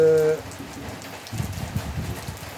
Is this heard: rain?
yes